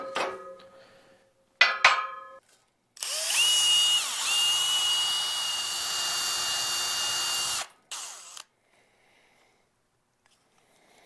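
An electric drill spins a 180 grit hone inside a sleeve in one steady, high whining run of about five seconds, bracketed by short metallic clinks and brief trigger bursts.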